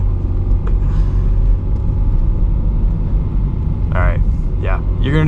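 A Subaru BRZ on all-season tires strains up a snowy hill, its engine a steady, loud low rumble throughout, with voices talking near the end.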